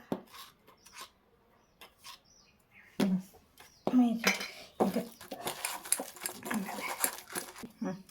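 Vegetable batter with turmeric and baking soda is mixed by hand in a bowl, giving scattered clinks and knocks that build into a stretch of wet squelching and rustling toward the end.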